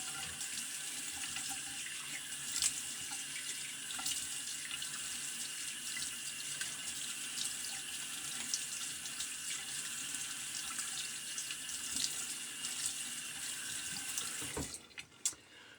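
A tap runs steadily into a basin, a continuous close hiss of flowing water lasting many seconds before a brief clunk as it is shut off.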